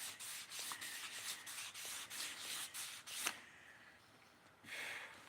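Objects are scrubbed in a workshop with a steady, faint, close-up rubbing sound in quick repeated strokes, briefly pausing before resuming, with a short spoken phrase.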